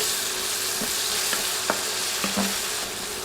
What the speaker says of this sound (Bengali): নেড়ে কয়েক সেকেন্ড ভাজলে আদা রসুনের কাঁচা গন্ধ চলে যাবে